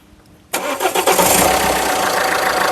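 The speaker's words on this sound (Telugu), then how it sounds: "సింగిల్ సెల్ఫ్లో కార్ స్టార్ట్ అవుతుంది" A 2015 Maruti Suzuki S-Cross Alpha 1.6 engine catches on a single crank, firing abruptly out of quiet, then settling into a loud, steady close-up idle.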